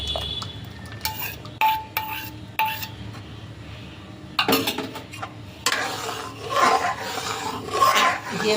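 A spoon stirs and scrapes a milk mixture with powdered milk in a kadai for bread malai rolls, making repeated rasping scrapes against the metal. The scrapes come in short bursts, then grow denser and longer, close and clear.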